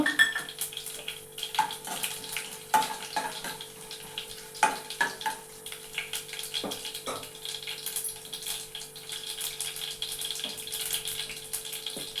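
Chana dal and a couple of dry red chillies frying in oil, a soft continuous sizzle with occasional clinks and stirring taps, close but fairly quiet, alone without talk.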